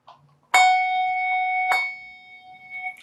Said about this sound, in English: I can ring that top bell by itself because gravity's kind of helping it out.